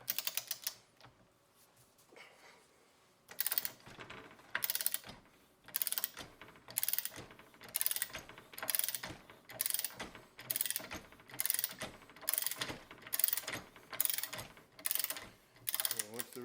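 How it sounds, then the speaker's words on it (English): A race puller works an inner bearing race off a wheel hub in a series of regular, sharp metallic clicks and ratcheting snaps, evenly spaced and close, after a quieter opening stretch. "we'll pull that little inner race off with our race puller"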